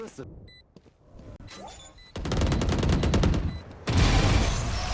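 Valorant gunfire erupts in bursts of rapid shots amid in-game clicks and effects, with loud fire dense through the second half of the clip.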